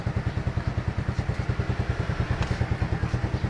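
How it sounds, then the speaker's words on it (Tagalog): Motorcycle engine running at a steady idle, a close, even rapid thumping pulse with a faint rattle and no voices. "Paandarin nyo yung motor nyo."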